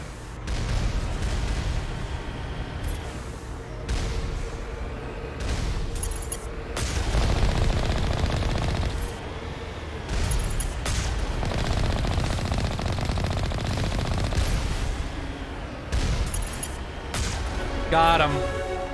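Enemy turrets in Mass Effect fire bursts of rapid gunfire with booming hits, loud and sustained for long stretches, while a person talks over the shooting.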